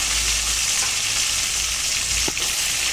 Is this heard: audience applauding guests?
no